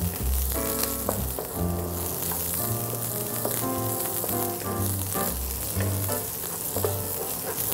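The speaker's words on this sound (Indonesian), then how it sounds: "Ini bisa ditumis sampai kekuningan ya bawangnya, setelah aromanya tercium harum." Onions sizzle steadily in a hot pan for mushroom tom yum, a constant crackling fry that runs the whole time under background music, with no talk.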